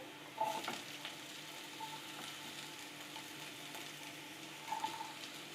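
Capsicum, grated carrot and cabbage sauté in a pan for vegetable noodles, giving a faint, even sizzle with a couple of soft clinks of a utensil, quiet and close.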